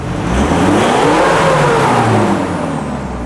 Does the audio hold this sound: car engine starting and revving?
yes